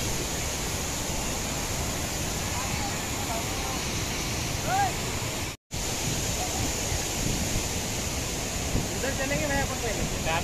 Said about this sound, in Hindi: वहाँ से जो पानी गिरता है बहुत बेहतरीन दिख रहा है